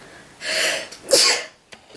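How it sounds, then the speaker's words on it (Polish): A person sneezes loudly and close to the microphone indoors, one sharp burst followed by a second breathy sneeze and a faint trailing breath. "Zaraz zacznę kichać."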